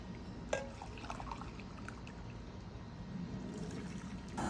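Four cups of hot water poured over steeping grains while brewing an Oktoberfest-style beer, a quiet, steady trickling pour close by, with a small clink near the start.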